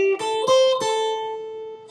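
A short guitar phrase of five or six evenly spaced plucked notes on the top two strings, each attack clear and sustaining with bright harmonics, played alone without slides or bends.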